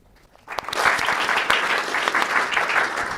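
A debate audience breaks into applause after a closing statement, a sudden burst of steady, dense clapping that starts abruptly and carries on evenly to the end.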